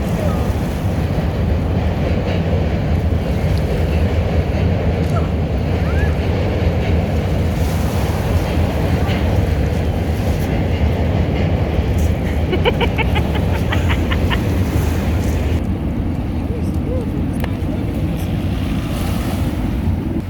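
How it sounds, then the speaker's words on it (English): Steady ocean surf washes onto a rocky beach in New York City, with wind buffeting the microphone and a faint boat engine drifting past in the distance, all continuous and fairly loud without talk. "watching the waves and the boats go by"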